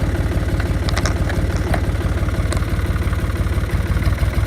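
An engine runs in low gear while pulling logs to a sawmill, a steady, close, rapid low-pitched chugging throb that keeps an even rhythm throughout, with faint clanks on top.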